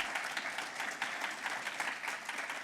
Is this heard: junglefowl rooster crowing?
no